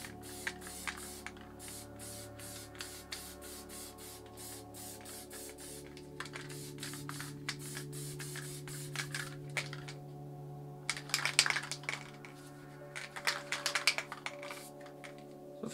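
An Auster spray paint can sprays in repeated hissing bursts, some short and some sustained for a few seconds, close and clear over a low steady background hum, with no talking.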